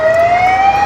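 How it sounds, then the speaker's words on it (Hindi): A toy ambulance's electronic siren plays a loud, steady wailing tone close by, holding one high pitch that slowly rises, with no talking. "एम्बुलेंस जल्दी से हॉस्पिटल लेकर जा रहा है बेबी को।"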